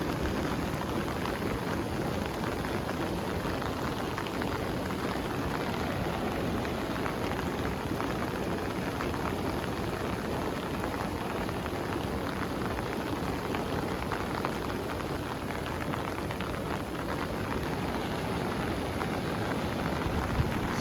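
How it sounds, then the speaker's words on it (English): Steady rain falling beside a boiling mud lake in the Philippines, a dense, even hiss of drops on surfaces that continues unbroken at moderate level throughout, with no voices. "It's raining."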